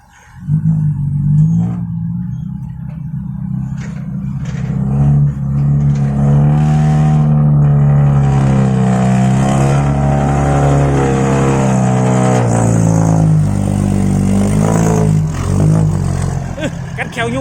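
A car stuck deep in mud, its engine droning and revving hard and rising in pitch as it strains, loud and close with people shouting and talking over it.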